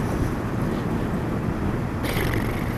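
Wind roars and buffets steadily off the fairing of a Kawasaki ER500 motorcycle while riding. It is a loud, constant rush with no gaps and a slight rise in hiss near the end.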